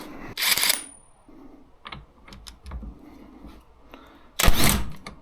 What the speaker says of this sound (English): That is a 21mm nut, which I'm told is very tight. And I have an impact gun, so why wouldn't I use it